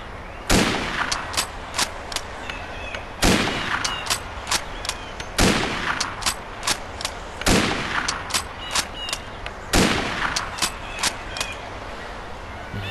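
Loud, sharp gunshots from the video game Mafia, firing in repeated bursts of several rapid shots with brief pauses between them.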